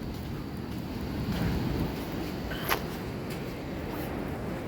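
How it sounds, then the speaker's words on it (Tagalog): Strong ocean waves break steadily on a beach at high tide, a constant washing roar with wind buffeting the microphone and a brief faint sound partway through. "Oh, grabe, lalakas ng alon."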